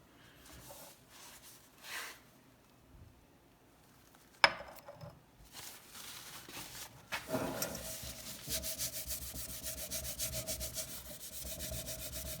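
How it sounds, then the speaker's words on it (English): A ceramic mug is scrubbed with diesel fuel. Faint scattered rubbing gives way to a steady, close, rhythmic scrubbing that continues to the end. No talk is heard. "I'm scrubbing on the right side first, so I can see comparison right here on the mug"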